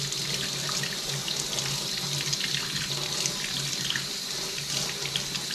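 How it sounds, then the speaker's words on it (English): Tap water runs steadily over a rusty can at a sink, a constant close splashing rush with no break and no voices. "Now I'm just going to run water over it"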